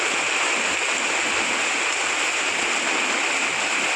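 A constant, loud roar of rushing water from a river flooded by heavy monsoon rain, steady and unbroken.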